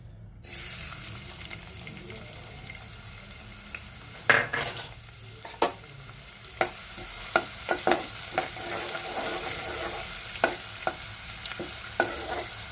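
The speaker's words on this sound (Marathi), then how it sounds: "कांदा परतून घेऊया।" Onion sautés in hot oil inside a pressure cooker, giving a continuous low sizzle with a run of sharp spoon clinks and scrapes against the metal.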